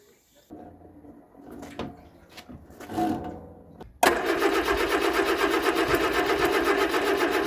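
A 1975 Vauxhall Viva HC 1256 barn-find car is cranked after a few knocks and clatters, then its engine catches abruptly and settles into a loud, steady running note.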